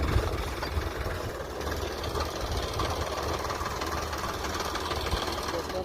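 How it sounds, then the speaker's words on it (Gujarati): A tractor ploughing a cotton field, its engine giving a dense, continuous low rumble with a knocking, chugging pulse, loud and close throughout. "ટ્રેક્ટર હાકવાનું ચાલુ કરી દીધું છે"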